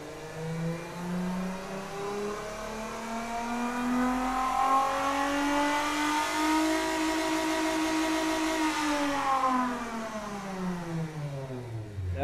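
A Chevy 4.3L Vortec V6 running all motor on individual throttle bodies revs up in a racing game, its pitch climbing and holding steady for a long stretch before falling back. The tone is harmonic-rich and loud, with no talk over it.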